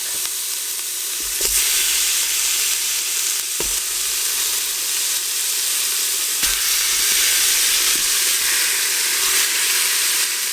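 Beef chuck browning in a Ninja Foodi or Instant Pot for birria, with a loud continuous sizzle and hiss and a few sharp knocks and scrapes of meat being moved.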